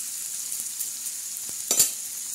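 Onion softening in oil on a griddle pan hisses in a steady, close sizzle, broken by a couple of soft scraping stirs near the end, with no voices.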